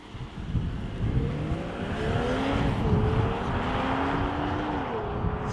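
A BMW X3 M40i SUV out on the road, its engine note rising and falling in smooth sweeping tones through gear changes over a steady rumble of tyre and road noise, moderately loud and close.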